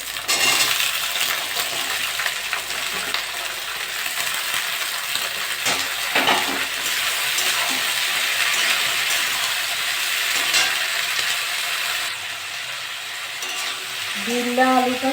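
Potatoes and bituli fry in a pan with onions, a continuous bright sizzle punctuated by occasional stirring scrapes and a small metallic clink near the end.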